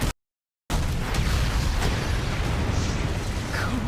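An artillery shell explosion in an anime begins with a short burst, drops into a brief gap of silence, then gives way to a loud, sustained rumbling blast with debris-like crackle that holds to the end.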